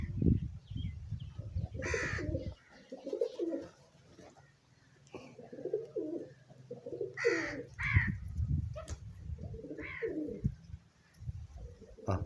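Lakka fantail pigeons and other flying pigeons coo in a loft, soft low rolling calls repeating over several seconds, with scattered higher bird calls and a faint voice in the background.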